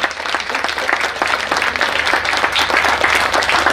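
An audience claps for guests at a Chhatrapati Sambhaji Maharaj Jayanti festival, a dense, loud burst of applause from a crowd held steady throughout.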